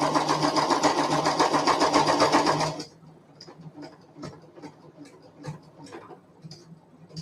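A sewing machine stitches a fabric pot holder, running loud and fast for a few seconds before stopping abruptly, followed by faint scattered ticks and clicks.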